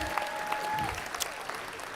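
An audience at a DMA2014 keynote breaks into applause, a soft, even wash of many hands clapping at a distance, with a few sharper claps standing out.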